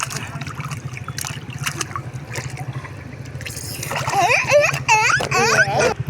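Someone swimming in the sea at Mandarmani beach sends up irregular splashes and trickles of water while voices talk and children call out excitedly, louder toward the end.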